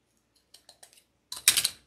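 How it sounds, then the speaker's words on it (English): A few light snips as wire is cut from a handmade craft angel, followed by a louder burst of crisp rustling and clicking, close and quiet, with no talking. "and then I'll cut the wire off."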